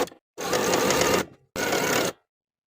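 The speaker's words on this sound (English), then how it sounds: "Sew the neckband from its finished edge to its finished edge with a 1/2 inch seam allowance" A sewing machine runs a narrow zigzag stitch along a knit neckband in two close, loud bursts of rapid whirring, each about a second long with a short pause between.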